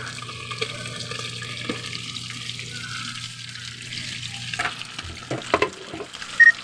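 Tilapia fries in a pan with a continuous soft sizzle, broken toward the end by a few sharper clinks and clatters of utensils.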